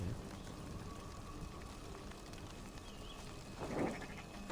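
Sheep bleating in the video game Assassin's Creed Valhalla, a brief bleat standing out near the end over steady game ambience and background noise.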